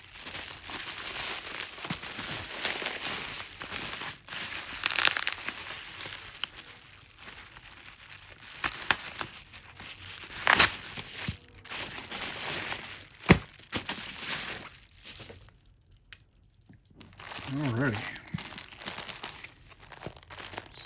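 Plastic bags crinkle and rustle up close in bursts of handling, with brief pauses and a short spoken word near the end.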